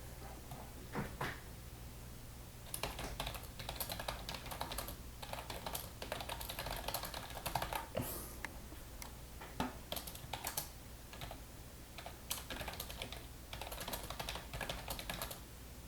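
A computer keyboard with worn, faded keys is typed on in quick, uneven bursts of soft clicks against a low, steady hum. The clicks are quiet, and no one speaks.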